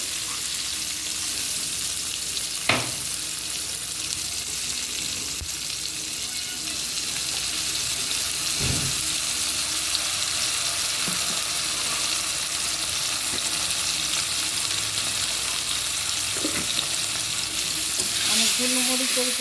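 Garlic, ginger and chilli paste sizzling with onions and tomatoes in a pan for a Bengali chilli fish dish, a steady loud fry with a few sharp stirring knocks, close up and mostly free of talk.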